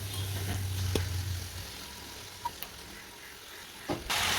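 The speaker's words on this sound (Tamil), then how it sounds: "மீதி இருக்க சிக்கனையும் இதே மாதிரியே போட்டு ஒரு லேசாக பொரிச்சு எடுத்துக்கலாம்." Chicken pieces fry lightly in oil with a soft, steady sizzle and a few clinks of a utensil against the pan, heard close by with no talk.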